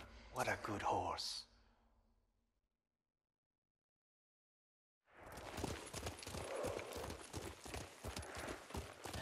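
A brief voice, a few seconds of silence, then horse hooves clip-clop in a steady, busy rhythm, close and fairly loud, in the video game Ghost of Tsushima.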